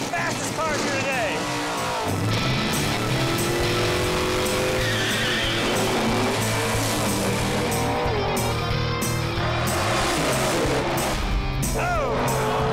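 Drag race cars launch at Tucson Dragway, engines roaring loud with rising revs and tire squeal, one car after another under a constant crowd and announcer din.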